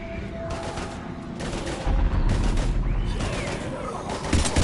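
Heavy gunfire in the video game Mass Effect 3, dense bursts of shots and booms crackling continuously throughout, loud and close in a chaotic firefight.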